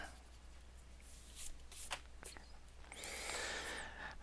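An eraser rubs across a drawing on paper in soft, scratchy strokes, scattered at first and then settling into a steadier, brighter scrubbing near the end, quiet over a low electrical hum.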